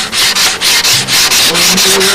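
Hand sanding across the surfaces of a Spitfire model aircraft, a close, loud series of rhythmic rasping strokes, roughly eight back-and-forth passes in quick succession.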